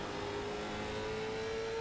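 A late model race car engine in the iRacing video game holds a steady, loud drone as it leaves the pit lane, its pitch climbing slightly throughout.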